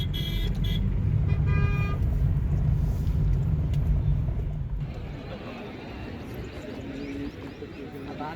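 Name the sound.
traffic jam with vehicles honking at Kumbh Mela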